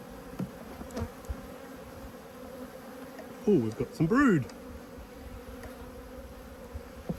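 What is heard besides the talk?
honey bees buzzing during apiary hive inspection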